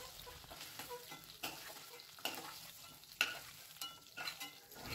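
Chicken pieces stir-fry in oil for a chicken pickle, being turned until their water cooks off: a soft, faint sizzle with light stirring scrapes and taps.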